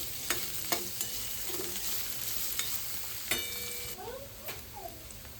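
Onion fries quietly in oil with a soft, continuous sizzle and occasional stirring clicks, while a cat meows faintly a few times toward the end.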